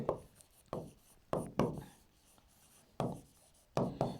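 Pen writing a maths answer for a class 10 quadratic equations lesson, a handful of short scratchy strokes on paper close up with quiet gaps between them, no talking.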